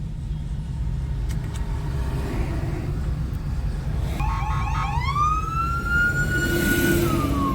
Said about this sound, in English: Here comes another police car.